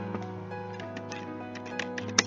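Keys clatter on a computer keyboard as a Python command is entered at a Windows command prompt, a quick irregular run of close, light clicks ending in one sharper keystroke, with no talking.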